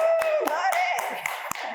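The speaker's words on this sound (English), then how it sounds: "You gotta clap for the educators" A small group of people clap for educators, the hand claps sharp and irregular, several distinct smacks spaced through a couple of seconds under a continuous talking voice.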